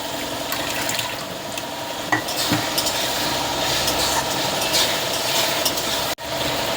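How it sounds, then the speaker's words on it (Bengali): Spices with slit green chillies fry in a pan for a chicken curry, giving a steady close sizzle with occasional stirring scrapes and a brief dropout near the end. "মশলাটা ভাজা ভাজা হচ্ছে"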